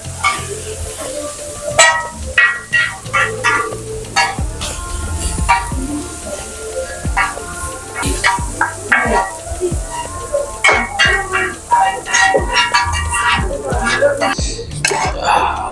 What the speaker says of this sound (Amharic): በ3 ብረት ምጣድ ጥብስ ነው የሚሰራው።